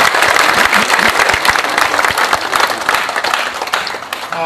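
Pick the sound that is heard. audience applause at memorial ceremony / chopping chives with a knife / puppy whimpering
audience applause at memorial ceremony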